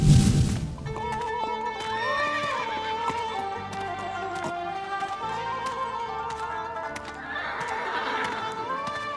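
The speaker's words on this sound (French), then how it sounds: "Ces chevaux attachés ne sont pas en mesure de boire tout seuls." Tethered horses in a hot desert camp neigh and whinny repeatedly, several loud rising calls over shuffling hooves and general stable movement, fairly close, with no talk.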